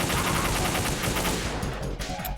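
Gunfire in Metal Gear Solid 2 on European Extreme difficulty, a dense, loud stretch of rapid shots over a continuous roar, with sharper individual reports standing out toward the end.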